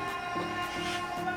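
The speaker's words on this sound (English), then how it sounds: "That's my alarm." An alarm goes off indoors with a steady electronic tone, layered harmonics and a faintly pulsing rhythm, moderately quiet and heard alone for just over a second.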